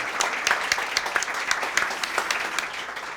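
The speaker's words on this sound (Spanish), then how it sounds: "Un aplauso" An audience at a debate on liberalism and religion applauds as a speaker is welcomed, a steady wash of many hands with distinct sharp claps popping out, moderately loud and continuous.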